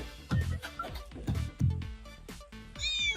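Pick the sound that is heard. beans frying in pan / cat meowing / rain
cat meowing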